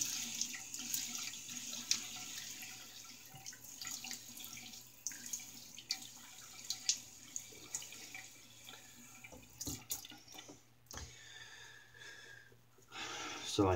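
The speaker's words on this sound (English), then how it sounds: "let me wet my face and I'll start loading the brush" Bathroom tap running while a face is wetted for a shave, a low steady stream of water with splashes and hands patting, close and fairly quiet, broken by brief louder knocks.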